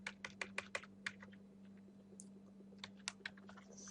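Keys clatter on a computer keyboard in quick uneven bursts, close and crisp over a steady low electrical hum, pausing briefly before another run of keystrokes.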